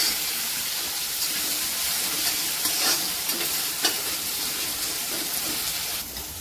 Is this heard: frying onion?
yes